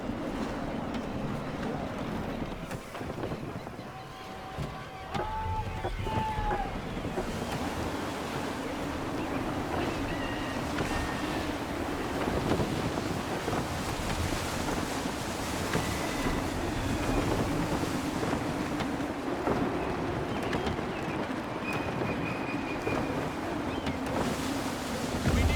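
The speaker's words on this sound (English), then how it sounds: "Gusty winds can be difficult to manage." Steady wind at sea while sailing the Aquila in Assassin's Creed 3: a continuous broadband rush of gusting air and surf over a low engine-like rumble, with faint tonal game cues drifting through, no talk.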